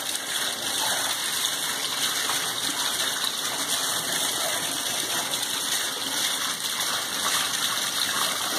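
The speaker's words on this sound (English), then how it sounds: "Okay, let's turn on some water." Tap water gushes steadily into a tub for a ferret's bath, a loud, continuous rushing with no pauses and no talking.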